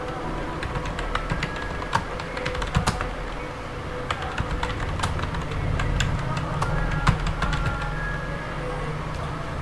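Computer keyboard keys clatter in a quick, irregular run while a narration is typed into Tally accounting software, close and fairly loud over a steady room hum.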